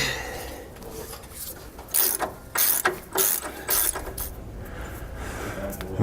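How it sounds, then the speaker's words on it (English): An 1 5/16-inch socket on a breaker bar loosens bolts for a Roadmaster rear anti-sway bar on a 2017 Ford F-53, with a few close ratcheting, metallic clicking bursts over a low background rumble. "We'll be using an 1 5/16" socket, and I'm using a breaker bar"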